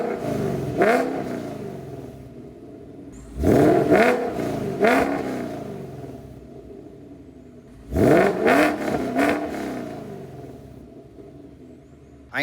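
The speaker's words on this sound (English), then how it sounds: "So I'll start out in quiet mode, which is where we are right now. Then I'll rev it." A car engine with an aftermarket exhaust set to quiet mode idles at a low hum and then rises in three sharp revs, each climbing and falling back to idle. The third rev is a double burst.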